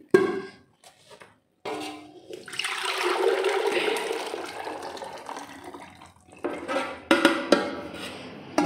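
Ash water poured over green cincau leaves, with a steady splashing pour from about 1.7 to 6 seconds, followed by a few shorter, louder splashes near the end.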